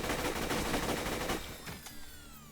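A Vladof assault rifle in Borderlands 2 fires a fast, unbroken automatic burst for over a second, then stops abruptly and leaves a fading metallic ring and whine.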